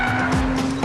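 A Porsche Boxster S corners hard on a track, its tyres squealing briefly over a steady engine tone.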